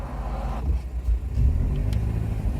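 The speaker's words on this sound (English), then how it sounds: "Let these cars go past." Cars drive past on a road, a low rumbling engine noise swelling as one vehicle goes by, then settling into a steady traffic drone.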